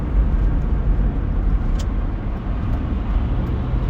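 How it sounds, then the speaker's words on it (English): Steady road noise from a car on the move, with another vehicle following close behind; a continuous low rumble of tires and engine runs throughout, with no voices. "Another car on my butt who isn't going to wait."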